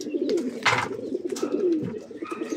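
A young pigeon coos softly and close up in a series of low, rolling calls, with light rustling and faint chirps around it and no talking.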